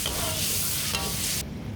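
Food frying in a pan gives a loud, dense sizzle that holds steady and then drops away abruptly near the end, with no talk.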